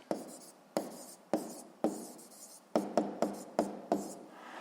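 A pen writes by hand on paper during a physics lesson, giving about nine short, distinct scratching strokes, each sharp at the start and fading, close and fairly quiet against a silent background.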